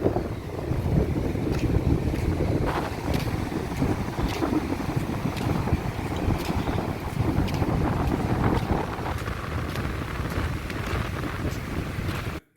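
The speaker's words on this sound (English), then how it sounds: "Oh, it's windy." Steady gusting wind buffets the microphone outdoors, a continuous broadband rush that holds for about twelve seconds with no talking.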